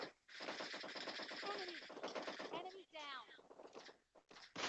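Rapid automatic gunfire in the mobile battle royale game PUBG Mobile Lite, dense bursts running through most of the moment with players talking over it.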